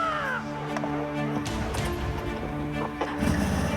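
Crows caw repeatedly in the open during a winter crow hunt in Québec in below-freezing cold, with a few harsh calls over a steady low background hum.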